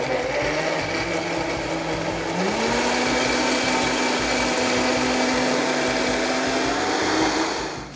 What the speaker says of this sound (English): going to put some heavy whipping cream, and I'm gonna blend this together